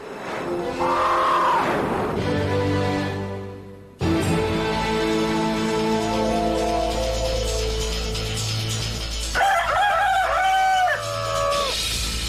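A rooster crows loudly in an Indonesian TV drama, several long crowing calls with clucking between them, up close over a low rumble and background music.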